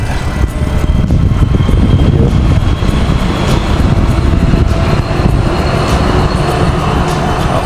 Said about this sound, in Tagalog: Diyan na yung tren.